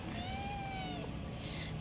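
A small rescued kitten gives a few faint, thin meows, rising and falling, over a steady background hum in a quiet home.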